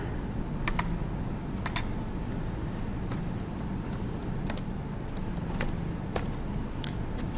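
Keystrokes on a computer keyboard click in short, uneven clusters as someone types a word, close and fairly quiet over a steady low background hum.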